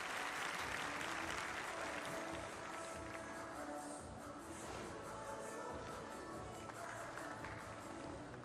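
Home crowd applause filling an arena during a pairs figure skating event at the Finlandia Trophy 2024, a steady wash of clapping heard at a distance and held at low level.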